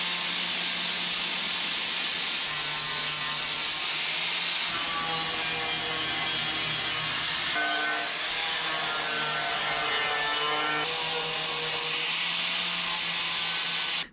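Roll lock disc grinding down a weld on patch-panel sheet metal of a 1976 GMC truck, a loud continuous abrasive whine that shifts pitch as pressure changes, with no speech.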